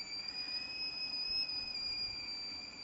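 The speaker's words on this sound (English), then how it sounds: "Here's the kettle boiling." A whistling kettle boiling on the stove, letting out a steady high-pitched whistle with a second lower tone beneath it, held continuously over a faint background hiss.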